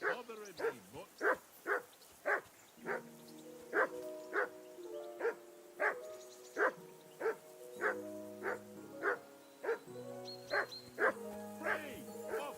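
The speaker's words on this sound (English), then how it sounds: "Call that dog, Henry. Who the hell can listen to that?" A dog in the Kingdom Come: Deliverance II video game barks and yips steadily, over a dozen evenly spaced woofs close up, layered over game music and ambient sound.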